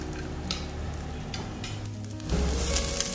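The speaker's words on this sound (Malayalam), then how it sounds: "വെളിച്ചെണ്ണ നന്നായിട്ടൊന്ന് ചൂടായി വരുമ്പോൾ നമുക്കിതിലേക്കൊരു 1/2 മുറി തേങ്ങ ചിരകിയത് ചേർത്ത് കൊടുക്കാം" Half a grated coconut frying in hot coconut oil for kadala curry, a continuous close sizzle with light stirring scrapes and a louder crackle burst late on.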